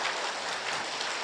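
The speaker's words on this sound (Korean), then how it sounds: "박수로." Audience at a Buddhist lecture event claps steadily for a speaker, a short dense burst of applause that holds at an even level.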